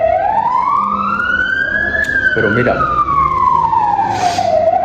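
An ambulance siren wails loudly as it passes close by, its tone sweeping steadily up and then sliding back down, with someone talking over it throughout.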